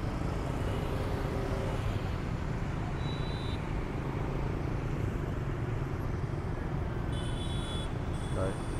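Motorbikes and cars pass through a busy red-light intersection in Vietnam, a steady loud roar of engines and traffic that never lets up, with brief high horn-like tones toward the end.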